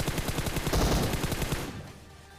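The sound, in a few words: gunfire in PUBG Mobile video game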